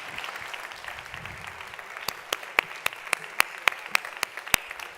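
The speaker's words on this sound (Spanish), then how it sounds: "Un aplauso muy fuerte." Audience at a results presentation applauding, a diffuse patter of clapping with murmuring voices underneath, then a run of loud, distinct individual claps close by toward the end.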